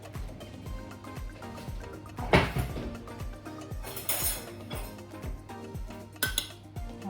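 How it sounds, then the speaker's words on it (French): A metal spoon scrapes and clinks against a dish while scooping finely diced cucumber brunoise, soft repeated taps with a few sharper clatters, close and fairly quiet with no talk. "On va prendre ça avec la cuillère."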